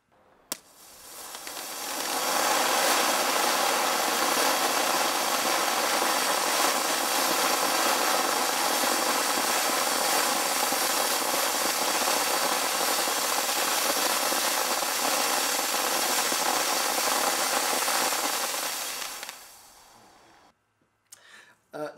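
A pyrotechnic gerb firework fountain burning, a loud, continuous hissing roar that swells up quickly, holds steady for about seventeen seconds and then dies away, heard alone.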